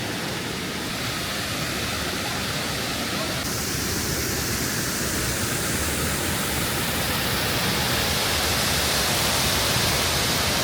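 Waterfalls in the Lake District near Ambleside, a steady broadband roar of rushing water filling the whole clip without pause, close and loud.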